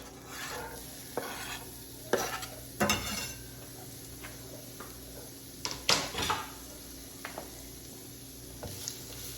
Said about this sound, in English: Let those onions saute in that butter and a little bit of that oil.